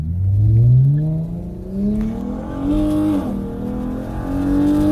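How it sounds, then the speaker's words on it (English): A Dodge Challenger racing a Ford Mustang, engine revving hard with rising pitch sweeps through gear changes, loud and close, surging and easing in waves. "I got a Mustang back here. Thinks he wants some of the Challenger."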